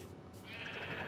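A single Minecraft sheep gives a short, faint bleat from the video game, heard alone over quiet background.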